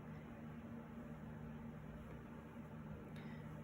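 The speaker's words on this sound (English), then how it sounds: "if you hear the fan in the background" A faint, steady whir of a fan runs continuously in the background with low hum, no voices.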